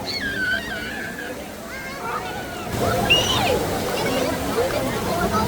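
Water sloshing and splashing close by at a waterpark, with excited voices and squeals over the steady wash of the water.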